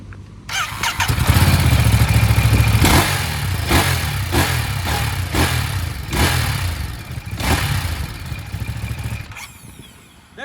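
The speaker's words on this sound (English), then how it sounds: "That's the beautiful sound of the Testastretta 11 degrees engine." A Ducati Monster 937 motorcycle's Testastretta 11-degree engine starts and idles with a deep, lumpy rumble, revving up in repeated short blips, loud and close by.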